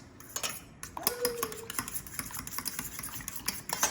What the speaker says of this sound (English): grab a fork, and I'm just gonna beat up the egg here